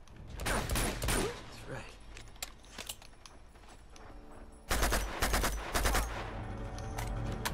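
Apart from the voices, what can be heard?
gunfire in video game Uncharted 2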